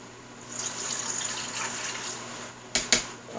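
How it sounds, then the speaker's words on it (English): Water gushes and splashes steadily as it drains out of the bottom of an EasySprout sprouter, ending with a couple of sharp plastic knocks. "Dump the water out the bottom."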